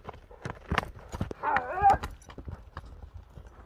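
A light horse's hooves clip-clop at close range in a quick, uneven series of sharp knocks, with a short tonal sound rising in the middle.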